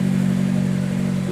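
Honda F20C-swapped AP1 car engine idling steady and close, a strong low hum with a slightly uneven pulse and no revving, with no voices.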